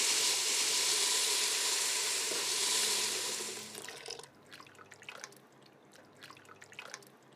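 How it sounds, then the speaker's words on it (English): Water poured into a cooking pot on the stove, a steady splashing stream for several seconds that stops, leaving faint drips and sizzling afterward. "Now I'm going to add a little water."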